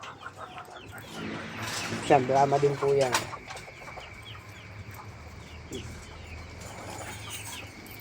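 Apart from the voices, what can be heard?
chickens clucking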